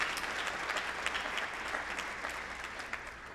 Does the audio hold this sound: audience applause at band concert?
yes